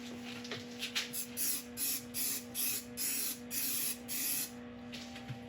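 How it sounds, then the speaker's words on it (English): Eight short, quiet hissing spray bursts of CA glue activator follow one another in a regular rhythm over a faint steady hum, while woodturning a beech bowl. "So I'm going to give this a spray with the activator"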